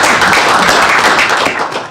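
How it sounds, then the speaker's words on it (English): Dense, continuous clapping from a crowd at a school board meeting, steady and loud throughout with no voices standing out. "if we could get a round of applause for all the musical"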